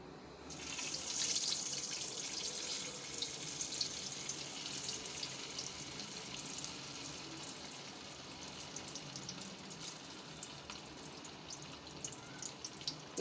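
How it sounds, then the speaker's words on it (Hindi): Two beef shami kebabs deep fry in hot oil in a small kadai, giving a steady, close, even sizzling hiss that holds throughout. "ये देखिए, मैं यहाँ पर 2 कबाब डाल रही हूँ"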